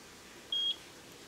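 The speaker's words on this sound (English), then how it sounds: "I heard a beep." A single clear high-pitched electronic beep from a eufyCam 3 (S330) security camera as its sync button is held for pairing, about a fifth of a second long, alone over quiet room tone.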